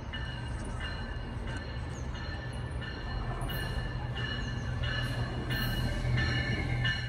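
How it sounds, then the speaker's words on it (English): A passenger train rolls through a station with a steady low rumble, and screeching wheel squeals come and go repeatedly above the continuous rail noise. "Here comes our train."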